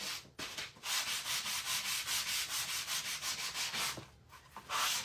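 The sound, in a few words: sanding wood with a sanding sponge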